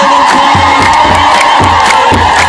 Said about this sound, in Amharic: የታል የታል እልልታ